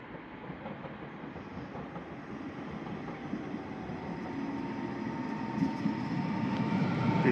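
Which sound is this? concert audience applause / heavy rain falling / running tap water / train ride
train ride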